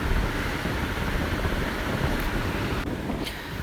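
Strong wind blows across a rocky seashore while rough surf rolls in, a continuous loud broadband roar with heavy rumbling gusts and no distinct breaks, steady throughout.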